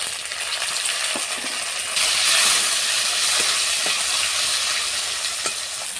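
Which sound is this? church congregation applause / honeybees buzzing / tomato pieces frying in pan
tomato pieces frying in pan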